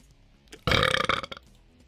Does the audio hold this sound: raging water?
no